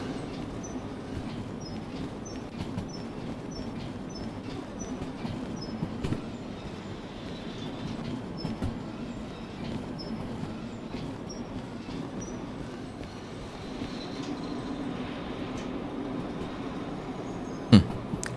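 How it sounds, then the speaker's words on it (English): Distant locomotive rumble in the train-driving game Derail Valley, a steady faint low drone with soft mechanical clanks and a single sharp click near the end, heard alone without talk. "It's so peaceful when the locomotive is that far away."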